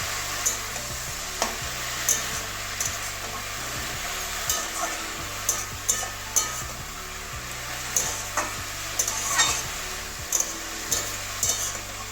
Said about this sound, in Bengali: সবগুলো ভালো করে মিশিয়ে দেবো